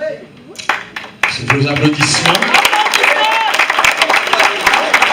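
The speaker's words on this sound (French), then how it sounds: "Sous vos applaudissements," Applause and clapping swell from a crowd, filling the room steadily after a brief quieter opening, with voices mixed into the noise.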